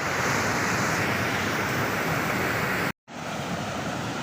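Heavy water pours over the overflowing Mahalaxmi lake waterfall at Peth Vadgaon under cloudy skies, a loud continuous roar that cuts out abruptly for an instant near the end before resuming.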